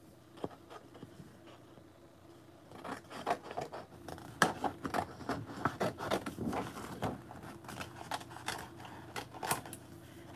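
Scissors snip through a 12 by 12 sheet of paper for an altered picture frame craft, producing a quick, close run of crisp cutting clicks that grows busier midway through.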